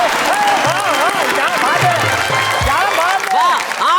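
An audience applauds at a Hindi comic poetry recital (kavi sammelan), a dense, steady wash of clapping running throughout, with a voice speaking over it.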